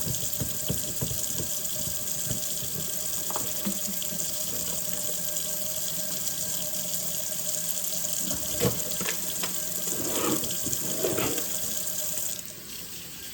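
A raw turkey is rinsed under a running kitchen tap, with a steady loud rush of water into the sink. Handling splashes and knocks break through it before the flow drops near the end.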